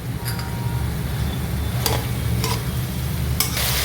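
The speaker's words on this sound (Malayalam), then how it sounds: "ഞാൻ സോൾട്ടും പെപ്പർ പൗഡറോടും ഇട്ട് 1 മിനിറ്റ് ഒന്ന് വഴറ്റി" Chicken with salt and black pepper powder sautés in a pan for chilli garlic noodles, giving a steady close sizzle broken by occasional spatula scrapes and clinks. Nobody speaks.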